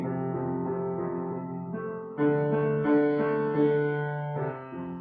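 Accompaniment sounding a sustained interval of a fifth, played softly alone with held, shifting tones that swell slightly midway.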